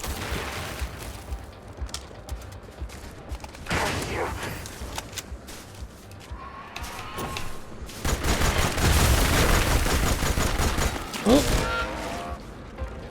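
Gunfire from a sci-fi space-western video game shootout, bursts of shots and clattering bangs running throughout, dense and loud, mixed with game effects.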